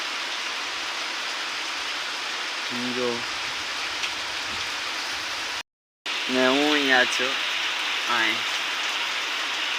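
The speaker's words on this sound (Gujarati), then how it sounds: "ફૂલ વરસાદ છે." Heavy rain falling steadily in a deserted spot at night, a constant dense hiss throughout, with someone speaking briefly over it in two short bursts.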